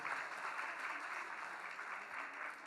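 A crowd at a Janmashtami festival gathering applauds to welcome people wearing turbans, a steady, dense wash of many hands clapping at a distance, faint and continuous throughout.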